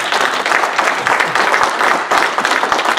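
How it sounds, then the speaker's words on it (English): Church congregation clapping hands in praise, a loud, dense burst of applause from a crowd that stays sustained with a brief dip midway, with no clear speech. "Give the Lord a hand clap of praise."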